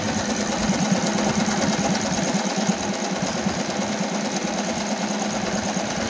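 An Usha Janome Wonder Stitch sewing machine runs steadily and loudly, its needle mechanism making a continuous close buzzing whir with no pauses.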